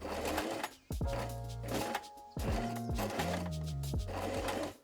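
Sewing machine stitching a blouse seam, several short bursts of motor whir with pitch slides as it speeds up and slows, separated by quick pauses, close and moderately quiet.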